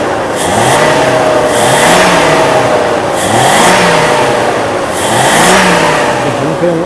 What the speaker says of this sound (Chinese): 我们来做个提速。